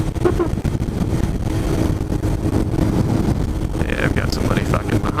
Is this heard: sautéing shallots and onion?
no